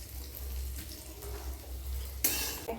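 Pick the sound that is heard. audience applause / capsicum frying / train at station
capsicum frying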